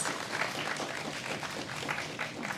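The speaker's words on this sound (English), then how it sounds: "Can we please give a round of applause to our three speakers?" Steady, dense clapping from an audience after a panel talk, a continuous patter of many hands at moderate loudness with no voices on top.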